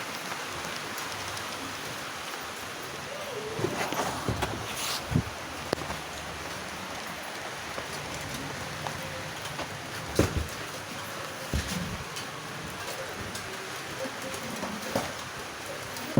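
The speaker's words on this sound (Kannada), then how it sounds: "ಅನ್ಎಕ್ಸ್ಪೆಕ್ಟೆಡ್ಲಿ ಸಡನ್ನಾಗಿ ಮಳೆ ಜೋರಾಗಿ ಬರ್ತಾಯಿದೆ." Sudden heavy rain pours down outdoors as a steady, dense hiss of drops on surfaces, with occasional louder splashes and knocks rising above the constant wash.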